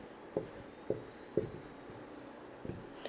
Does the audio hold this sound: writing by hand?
yes